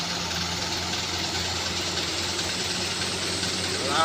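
A diesel truck engine idling and running steadily with a low, humming rumble and a constant vibration, swelling slightly louder at the very end.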